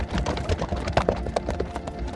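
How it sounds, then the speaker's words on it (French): Hooves of a horse galloping across open plain clatter in a quick, continuous rhythm, moderately loud and close, with no voices over them. "Il traverse la plaine à toute allure sur son cheval."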